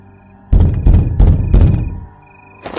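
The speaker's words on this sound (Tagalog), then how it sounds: "Hindi niya pa halos natatapos ang sinasabi ay naulit na naman ang pagkatok." Loud, forceful knocking on a closed door, heavy thuds arriving in about three bursts close to the listener, then fading to quiet.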